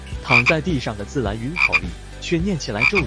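A giant cartoon frog croaks loudly in an animated scene, with several throaty, pitched croaks in quick succession filling the short stretch.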